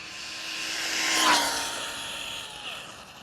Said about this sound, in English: Full throttle. It runs nice like this, I like it.